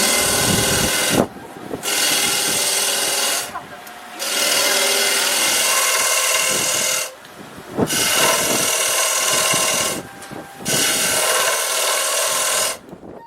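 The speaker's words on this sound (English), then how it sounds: "After demonstrating the creation of a wooden platter on his lathe, Tsuyama-san led us" A wood lathe turns a wooden platter in a lacquerware artisan's workshop, a loud, continuous scraping roar as the tool cuts, broken by several short pauses when the cutting stops and restarts.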